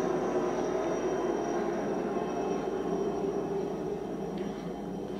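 A steady, heavy rotor-and-engine roar fills the air continuously, loud and constant, with no voices.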